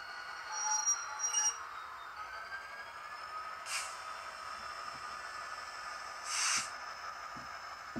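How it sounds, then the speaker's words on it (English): Model Revolution Trains Class 59 locomotive pulling a rake of 13 JHA hopper wagons around a tight curve on a layout. Faint, steady running hiss with occasional brief wheel squeals and clicks. "It quite happily pulled my 13 modified JHA wagons out of the sidings and around the relatively tight inner curve"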